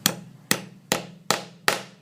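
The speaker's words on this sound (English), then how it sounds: "then simply using the heavy brass hammer" A heavy brass hammer pounds sheet metal into a dome: five loud, sharp, ringing strikes at a steady, unhurried pace, each one decaying quickly, up close and with no talk.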